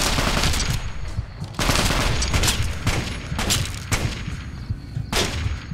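Rapid bursts of automatic gunfire ring out in the Fallout video game, loud and continuous with repeated sharp volleys over about six seconds.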